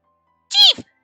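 Tama, the cat in the video game Tengoku Struggle, gives a single short, clear meow. It is close and loud, and nothing else is heard before or after it.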